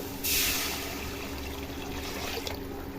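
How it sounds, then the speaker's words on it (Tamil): Tamarind water poured into a pan of spices sautéed in oil with chili powder and salt, a soft trickling stream that starts with a brief louder splash and then runs on steadily. "இப்போ புளி தண்ணி ஊற்றிக்குங்க"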